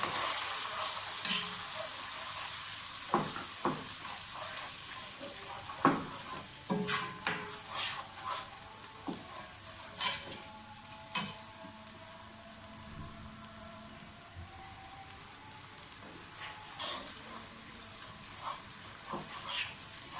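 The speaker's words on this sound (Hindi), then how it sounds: "प्याज को थोड़ा सा फ्राई करें।" Chopped onions fry in very hot oil for a chicken and potato shorba, producing a soft, steady sizzle with scattered clicks and taps from stirring.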